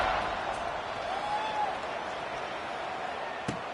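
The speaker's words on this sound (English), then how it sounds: "this crowd is buzzing after that last score" A large stadium crowd at a San Jose State college football game keeps up a steady, dense roar after a score, with scattered cheering and a distant broadband murmur throughout.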